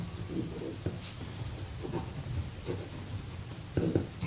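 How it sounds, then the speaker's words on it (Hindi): A hand writes an equation on a surface with steady scratchy pen or chalk strokes in short bursts and brief pauses, close and fairly quiet, with no talking. "यहाँ लिख लेते हैं।"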